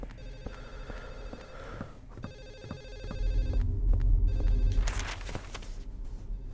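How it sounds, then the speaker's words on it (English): A telephone rings in room 107 in the horror video game Silent Hill 4, a repeating electronic bell pattern layered over a low throbbing drone that swells midway, with no talking. "Why is there surround sound for the phone ringing in room 107 if it's not there?"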